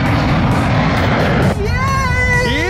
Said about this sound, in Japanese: 飛行機うるさいな。